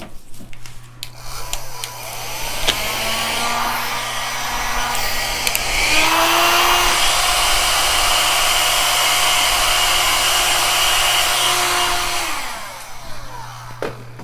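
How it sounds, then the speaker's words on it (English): A hair dryer whirs steadily at close range, blowing paint across a fluid art pour, its airflow roar swelling louder midway and holding for several seconds before cutting off. "I'm going to blow it down with my hair dryer in the center"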